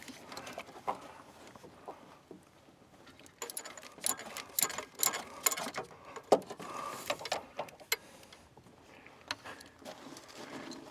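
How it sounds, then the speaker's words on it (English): A 12 mm socket on a ratchet loosens a bolt on a 2000 Toyota Avalon during alternator replacement, giving faint, irregular clicks and metallic ticks in quick bursts, with no voice. "And my 12 millimeter socket, and loosen this one down here."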